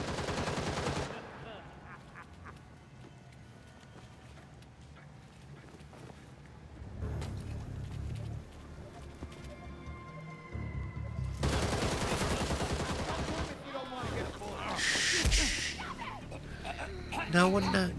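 Bursts of video game gunfire from guns in Gotham Knights, loud rapid volleys in several clusters over a game soundtrack and ambient effects, with a voice speaking at times.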